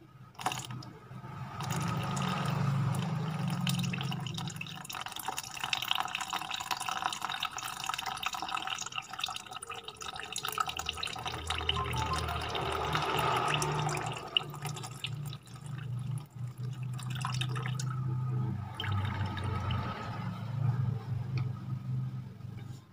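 Water is poured out of soaked peanuts and mung beans into a container, a steady gurgling trickle with dripping and splashing that pauses and resumes, close and moderately quiet, with no voices.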